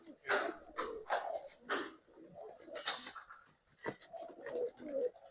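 Mukhi pigeons coo in low, soft repeated calls, close and fairly quiet, while someone talks over them throughout.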